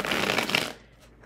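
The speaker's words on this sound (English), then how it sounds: "I really love to shuffle it because it is so flexible." Flexible tarot cards being shuffled, a quick close papery riffle that lasts about half a second and then trails into quiet.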